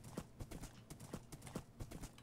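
Horse hooves clip-clop in the Minecraft modpack Wayward Wonders CTM, a steady rhythmic series of hoof beats at a walking pace, moderately close and clear, with no talk over them.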